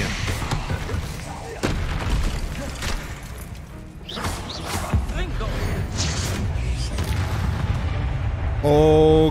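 Explosions in the video game Hogwarts Legacy, a run of crashing booms and thuds over a rumbling game soundtrack, with someone talking over the action.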